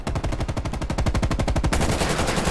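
Rapid automatic gunfire from a Call of Duty Black Ops Cold War match, a loud, dense burst of evenly spaced shots for nearly two seconds, then a sustained roar of continuing fire, with no talking.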